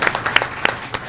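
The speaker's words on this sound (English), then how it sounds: "I heard a round of applause" A few scattered hand claps from a small audience at a school district governing board meeting, sparse and uneven over about a second, with no talk.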